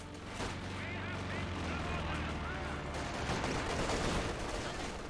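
MG42 machine gun fire in a Company of Heroes 2 battle, sustained rattling bursts mixed with distant artillery and other gunfire, forming a continuous loud wartime din with voices in the mix.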